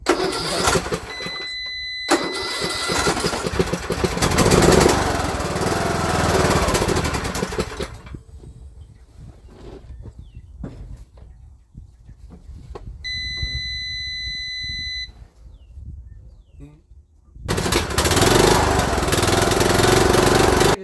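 A Craftsman LT2000 riding mower engine cranks and fires loudly in two bursts, a long rough run and a later restart, separated by a quieter stretch with beeping tones.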